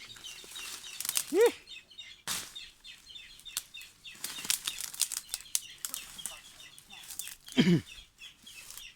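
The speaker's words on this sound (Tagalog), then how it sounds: "may mga ibon, huni ng ibon. Yung mga tinig ng ibon ito." Birds call and chirp outdoors in scattered bursts, with wing flaps and a couple of louder squawking calls close by.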